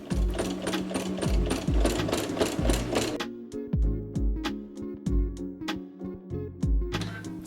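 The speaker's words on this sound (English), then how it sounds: "I'm going to sew right over the seam that the skirt already has" A sewing machine stitching over an existing skirt seam while upcycling clothes, running in fast rhythmic bursts with brief stops between runs, close and clear with no talk.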